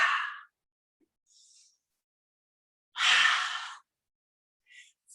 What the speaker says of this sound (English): we're going to take a couple of cleansing breaths here, breathing in through your nose and out through your mouth